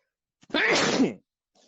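A single sharp sneeze, close and loud, preceded by a small intake of breath.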